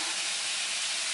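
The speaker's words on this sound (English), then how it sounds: "it's starting to sizzle here quite nicely in the background" Steady, dense sizzling hiss of chicken cubes frying in a hot pan, constant and fairly faint with no voices.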